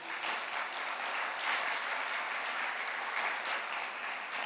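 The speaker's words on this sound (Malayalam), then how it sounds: "ഒന്ന് കൈ ഉയർത്തി കൈയടിച്ച്" A church congregation at a prayer retreat claps together, a dense, sustained burst of many hands, loud and even from start to finish, with no talking over it.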